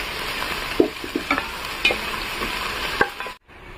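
Chopped onion for restaurant-style egg fried rice fries in a pan with a steady, close sizzle, broken by several sharp scrapes of a stirring spoon, then stops abruptly.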